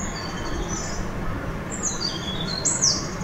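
A Tickell's blue flycatcher sings thin, high whistled phrases, several short sweet notes rising and falling over a steady broadband background hiss, fairly clear and close, with a brighter burst near the end.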